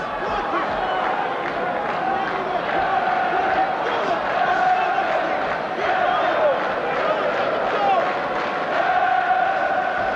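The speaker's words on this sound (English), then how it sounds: "Foster crowd in their Viking helmets trying to roar their man on" A boxing crowd wearing Viking helmets roars for its fighter in a dense, continuous wall of shouting and chanting, heard from within a large arena, with a commentator's voice over it.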